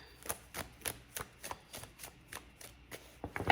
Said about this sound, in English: We'll do 2 more shuffles out of this deck before we move on to the other one